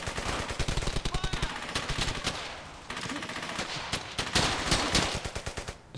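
Sustained machine gun fire from a World War II shooter game: rapid bursts of automatic shots in a dense, steady rhythm, loud and close, continuing for several seconds, with brief overlapping volleys.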